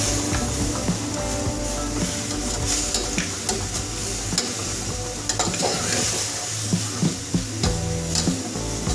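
A chicken mixture with soy sauce is stirred in a pan over a low flame, a steady sizzle of frying running throughout with repeated scraping and tapping of the spoon against the pan, close and moderately loud.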